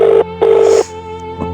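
A phone call's ringback tone: two loud, steady electronic rings, each about a fraction of a second long, followed by a quiet gap and a faint click.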